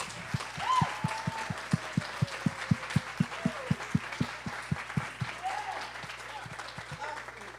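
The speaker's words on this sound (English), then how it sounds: "please stand up and get another round of applause for our 5 finalists" An audience at a university innovation and entrepreneurship challenge claps for five finalists, with fairly steady, evenly spaced claps under a speaking voice.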